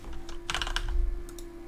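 A name typed on a computer keyboard, a quick close run of clicking keystrokes with a steady background hum, no talking.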